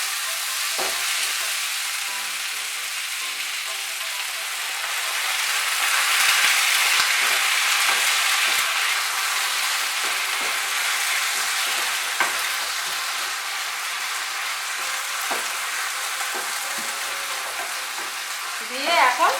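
A fish-head and eggplant curry sizzles loudly in a pan as a little water is added, with steady frying hiss and scraping stirring strokes close by, swelling midway and then settling back.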